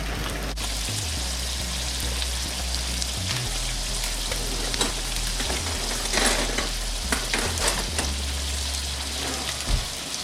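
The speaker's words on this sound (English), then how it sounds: "I'm going to go ahead and drop my potatoes in this one." Potatoes fry in a hot pan beside fish, a dense, constant crackling sizzle heard up close with low rumbling bursts and no voices.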